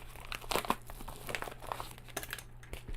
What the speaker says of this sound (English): I'm just gonna cut into the corner here and then cut off the bottom.